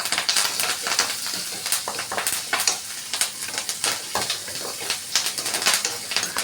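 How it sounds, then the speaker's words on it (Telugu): Garlic, curry leaves and cumin frying in hot oil, a steady close sizzle with crackling pops and occasional stirring scrapes throughout. "ఇప్పుడు వెల్లుల్లిపాయి, కరివేపాకు, జీలకర్ర ఈ వేయించి పచ్చిమిర్చిలో వేయాలి"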